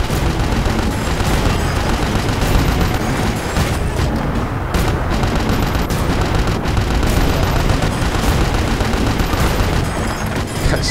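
Dense, continuous gunfire and grenade blasts in the Battlefield Bad Company 2 video game during street fighting with a tank, loud sharp reports and booms overlapping throughout with little let-up.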